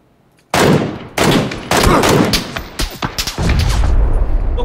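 Loud gunfire from a video game shootout, with repeated heavy bursts and rapid automatic fire running almost continuously, close and dominant with no talking.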